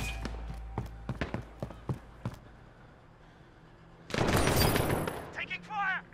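Scattered gunshots and short bursts in Call of Duty: Modern Warfare 2, sharp cracks spaced irregularly, then a louder dense burst of fire near the end, with voices talking in between.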